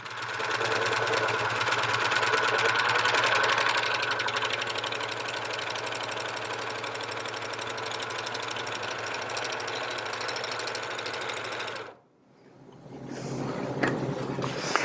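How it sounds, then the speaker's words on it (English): A Janome 634D serger sews a rolled hem along a fabric edge, a loud, fast, steady mechanical whir with rhythmic clatter that runs for about twelve seconds, then stops abruptly. "we're just going to run the edge of our fabric right along the edge of our throat plate"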